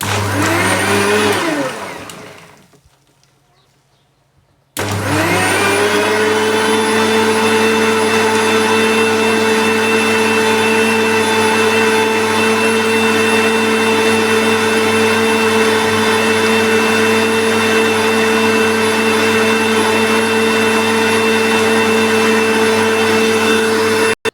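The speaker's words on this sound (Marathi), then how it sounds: "तर हे आपण मिक्सरमधून फिरवून घेणार आहोत." A mixer grinder whirs loudly grinding ginger and mint, winds down and stops for a moment, then starts again with a steady, high-pitched motor whine.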